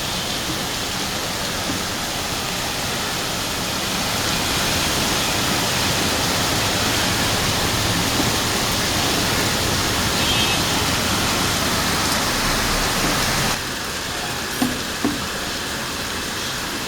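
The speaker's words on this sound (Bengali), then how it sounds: "দেখেন মুষলধারে বৃষ্টি হচ্ছে।" Torrential rain pouring down, a loud unbroken wash of hissing noise that holds steady throughout, with a brief drop in level and a couple of small knocks near the end.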